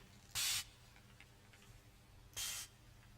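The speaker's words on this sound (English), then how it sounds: "This is a calming chamomile spray." Two short, crisp hisses from a chamomile spray bottle, each lasting about a quarter second and spaced two seconds apart, close and soft against a quiet room.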